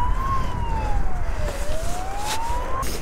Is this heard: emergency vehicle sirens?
yes